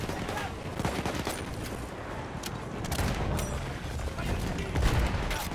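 A machine gun fires in a World War battlefield video game, quieter rattling bursts mixed with scattered shots and battle din, with voices faintly heard amid the fighting.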